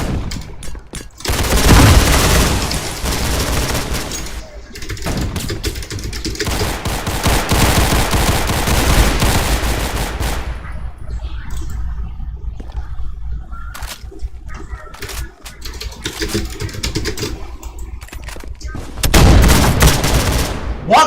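Gunfire erupts in a team shooter game, with loud sustained automatic bursts and fusillades that drop to sparser scattered shots midway before another heavy burst near the end.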